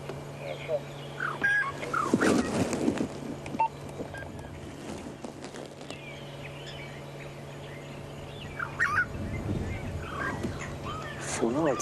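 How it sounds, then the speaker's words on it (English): Starlings call at a wildlife sunrise safari site with giraffes and a hyena den, giving scattered chirps and squeaks at moderate distance over a steady low hum, with a few harsher, louder calls mixed in. "it's just a few virtual starlings that I can hear calling"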